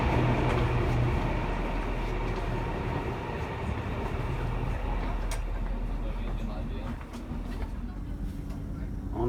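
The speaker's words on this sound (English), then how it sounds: "On board the train, but not departed yet." Inside a train sitting at Huizhou North Station before departure, a steady low rumble and cabin hum with faint clunks and murmuring voices in the background.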